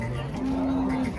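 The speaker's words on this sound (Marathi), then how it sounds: "पाहू शकता मित्रांनो ही गाय आता पाहू." A cow at the Baramati cattle market in Pune district gives one drawn-out, steady moo, close and clear, over faint market murmur.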